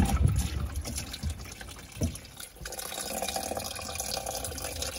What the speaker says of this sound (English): God knows where this water's coming from.